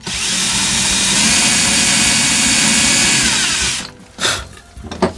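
A power drill drives a screw into wood for a homemade wooden camera build, giving a loud, steady motor whine for nearly four seconds before it stops, followed by a couple of short bursts and clicks.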